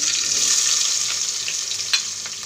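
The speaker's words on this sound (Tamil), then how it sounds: "வெங்காயம் லைட்டாக வதங்கிடுச்சு." Onions sauté in a pan with fenugreek seeds, giving a steady, loud, hissing sizzle with a brief stirring scrape near the end. No one speaks.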